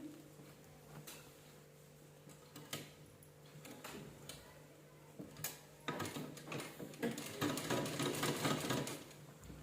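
A domestic sewing machine stitches a folded fabric strip cut from an old shirt, its rapid mechanical ticking getting steadily louder and busier toward the end, with small handling knocks and no voices.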